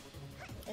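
A cartoonish dog in the video game SoulWorker gives a quick, yappy bow-wow, short and close, mixed with faint game sounds.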